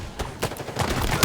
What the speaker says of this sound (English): Let's try the bulldog. Oh, it's a shotgun, okay.